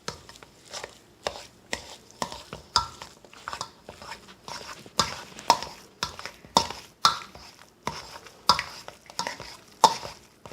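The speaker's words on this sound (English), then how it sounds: "Just dump that right in your potatoes and mash away." Butter is mashed into potatoes with rhythmic, repeated squishing thumps, about two per second, close and fairly loud with no talking.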